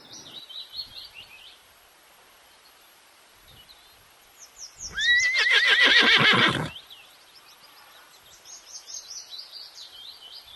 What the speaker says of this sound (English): H for horse